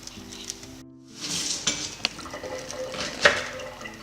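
Food frying in oil with a little salt in a pan, a continuous close sizzle with a few sharp clinks and stirring scrapes of a utensil.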